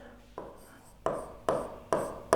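Pen or chalk strokes of handwriting, four or five short scratchy bursts spaced about half a second apart, close and fairly quiet with no talk.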